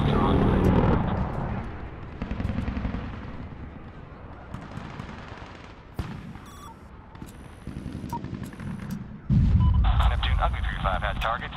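Heavy explosions and gunfire boom from aircraft-launched Hellfire missiles and cannon in the video game Medal of Honor (2010), with loud impacts and a continuous rumbling roar of battle.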